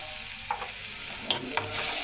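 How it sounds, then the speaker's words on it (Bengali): Chilies fry in oil in a pan, heard as a soft, steady sizzle close by with a few brief crackles and spatters popping over it. "মরিচটা ভাইজা নিচ্ছিলাম"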